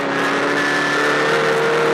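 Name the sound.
racing car accelerating hard with wheels spinning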